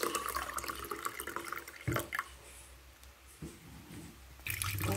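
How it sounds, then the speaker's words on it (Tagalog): Water poured into a cup for butterfly pea flower blue tea, a close trickling and splashing pour that fades midway and swells again near the end, with no talk. "At dito sa isang tasa, maglalagay ako ng water."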